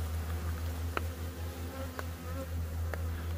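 Africanized killer bees from Cochise County drone in a steady, close buzzing swarm, with a few sharp taps breaking the hum.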